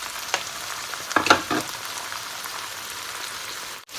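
Minced meat and eggplant stir-frying in a pan, a steady close sizzle with a few louder bursts of spatula stirring and a clack near the end.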